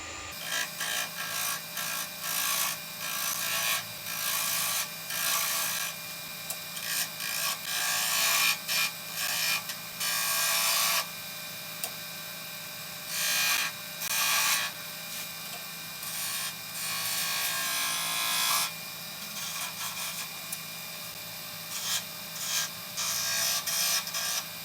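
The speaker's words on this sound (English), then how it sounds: "Switching over to a gouge for just basic shaping here." Wood being shaped on a lathe with a gouge while making multi-axis Christmas trees, giving a continuous loud scraping, hissing cut that pulses as the tool engages and lifts, with no talking.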